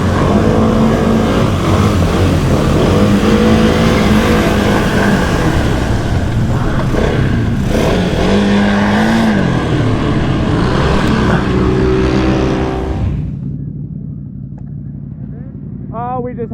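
Can-Am Outlander 700 XMR ATVs race with loud, roaring engines that rise and fall in pitch, and voices mix in. The engine noise drops away sharply near the end, leaving quieter sound.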